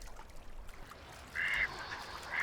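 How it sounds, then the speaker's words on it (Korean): White-cheeked scoters, a kind of sea duck, foraging at a quiet river mouth in Gurye, South Jeolla, Korea; two short, fairly loud bursts of calling stand out against soft background ambience. "한가로이 먹이를 찾고 있는 흰뺨 검둥오리"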